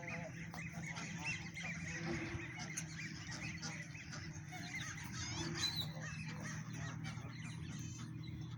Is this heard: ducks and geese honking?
yes